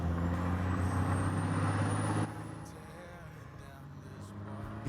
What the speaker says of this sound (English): here's the sound of the Cummins. Pretty aggressive